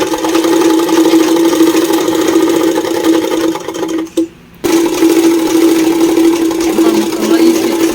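A sewing machine runs loud and close, stitching a Chinese-collar purdah garment in a fast, even whir that stops briefly midway and then resumes.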